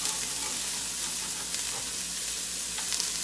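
Onions sizzle in a pan over medium heat as part of a squash and tomato soup, giving a steady, close, crackling hiss with small pops throughout.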